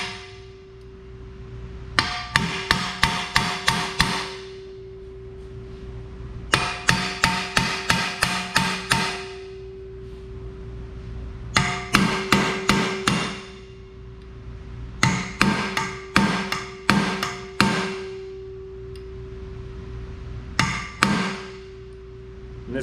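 A hammer knocks tight pins loose on a new Eckold HF100 machine, striking in quick clusters of sharp metallic blows separated by short pauses. A steady hum runs underneath, and nobody speaks.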